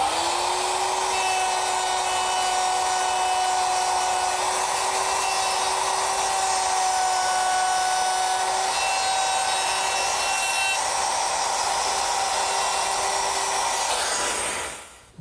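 Handheld router fitted with a guide collar cutting a hinge mortise in wood: a loud, steady high-pitched whine held for about fourteen seconds, then a quick wind-down at the end.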